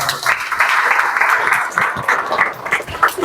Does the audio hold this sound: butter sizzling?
no